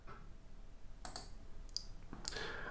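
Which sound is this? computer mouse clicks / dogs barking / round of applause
computer mouse clicks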